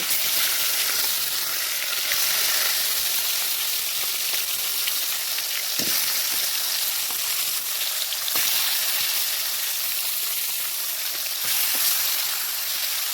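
Fish fries in hot oil in a village kitchen, a loud, continuous crackling sizzle with occasional sharper pops and spatters, and no voices.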